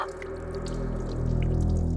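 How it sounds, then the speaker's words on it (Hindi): Water running and dripping in a bathroom, a faint steady flow with scattered drip-like ticks rising slightly in level, alone without talk. "बाथरूम में पानी बहने की आवाज आ रही है।"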